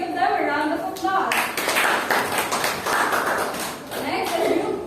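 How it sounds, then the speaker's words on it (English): A classroom audience applauds a student group after their presentation, with steady broadband clapping running through most of the clip and voices heard over it. "Group 2, let us give them a round of applause."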